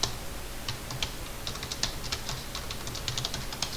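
A computer keyboard is typed on to enter CAD commands: a quick, uneven run of close, crisp key clicks and taps with brief pauses between bursts.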